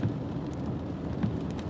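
Steady rain keeps falling in eastern North Carolina after Hurricane Florence, heard as a continuous close wash of drops over a low rumbling background.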